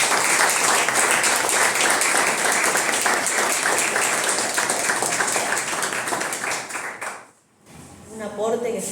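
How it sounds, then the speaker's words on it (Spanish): An audience at a Women's Month event applauds with sustained, loud clapping that fades out near the end before a voice begins talking. "Un aplauso a todos."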